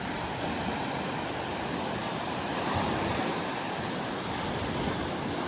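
Black Sea waves wash onto a beach at Kurortne, forming a continuous, dense rushing roar of surf with wind noise and no pauses or talk.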